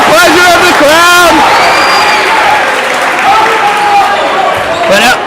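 A crowd at a high school basketball game between Lansdale Catholic and LaSalle College HS cheers and shouts loudly, with high yelling voices rising over a continuous roar of noise close around.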